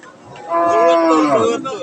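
Cattle at a livestock market where bony Sahiwal cattle are sold, with a six-toothed cow lowing in one long, loud moo with a rising, wavering tone over faint market background.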